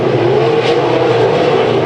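Several race cars roar past together at Bakersfield Speedway, a loud, steady engine drone with a slight swell as the group passes close by.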